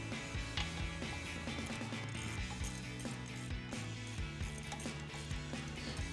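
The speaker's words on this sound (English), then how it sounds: "we'll use our 14mm socket on our ratchet to do so" Ratchet wrench with a 14mm socket loosening caliper slider pin bolts on a 2019-2023 Chevrolet Silverado 1500 during a brake job, a steady run of close, crisp pawl clicks repeating throughout with no talking.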